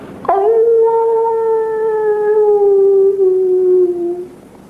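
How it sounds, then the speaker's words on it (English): A single long, sustained howl rises suddenly and holds steady before slowly falling away, loud and close against a quiet background. "the howl of the werewolf."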